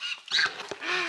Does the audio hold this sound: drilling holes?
no